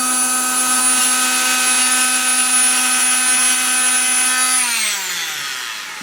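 An oscillating multi tool scraping solder clean on stained glass whines loudly and steadily at close range, a bright buzzing drone with strong harmonics that winds down in pitch as the tool is switched off near the end.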